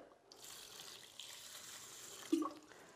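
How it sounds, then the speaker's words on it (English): Water running from a tap onto rice in a pot for a third rinse, a steady soft splashing flow that continues throughout, with a brief louder splash near the end. "pour some water."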